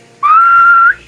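A single sustained whistled tone of Silbo Gomero, the whistled language of La Gomera, rising briefly then holding steady and high for under a second before cutting off cleanly, loud and close with no talk.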